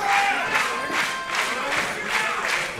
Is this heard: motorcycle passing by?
no